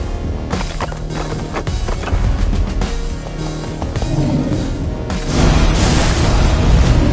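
TNT blowing up in the Minecraft video game: a sudden, loud broadband blast around five seconds in that settles into a sustained roaring rumble, following a stretch of clattery game noise.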